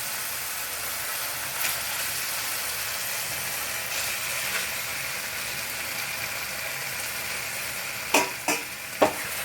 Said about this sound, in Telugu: ఇప్పుడు చికెన్ లెగ్ పీసెస్ వేసుకుందాం.